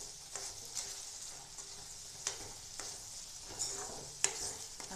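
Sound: mixing boiled peas into the paneer gravy

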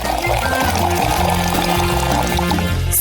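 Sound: water pouring into a bottle

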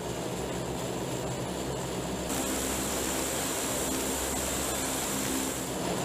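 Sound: gunship aircraft engines starting

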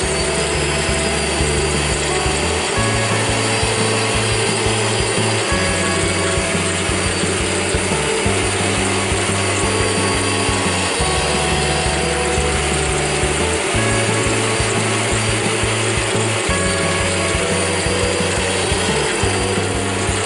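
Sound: drill moved sideways to mill a slot in wood

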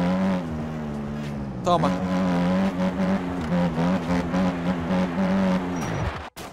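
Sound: dirt bike engine revving, from video game MX Bikes

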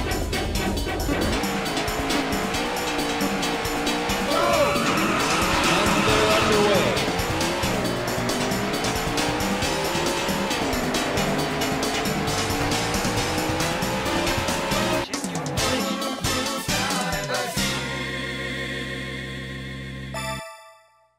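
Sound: race car engines and tire squeal in video game Daytona USA

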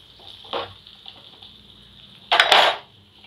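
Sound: stirring curry leaves into tomato curry in a pan

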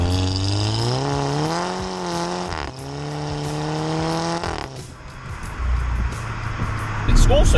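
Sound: Volkswagen Golf MK6 GTI engine accelerating in second gear

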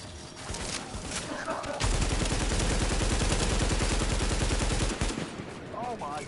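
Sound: gunfire in video game The Division

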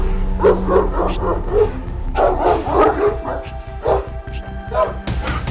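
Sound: dog barking

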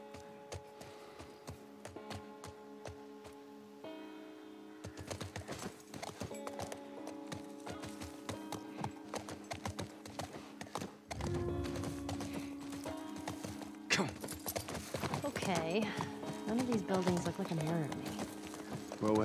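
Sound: horse hooves clip-clopping in The Last of Us Part I video game

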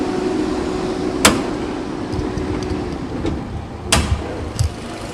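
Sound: opening the hood of a Nissan Rogue SUV

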